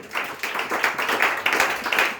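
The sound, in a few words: church congregation applauding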